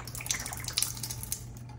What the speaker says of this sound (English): Once you have the old filter removed, you can drain the excess water by simply turning it over.